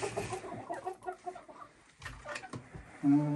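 Several chickens cluck nearby inside a coop in soft, repeated bursts, with faint rustling and scratching around them and a louder squawk toward the end.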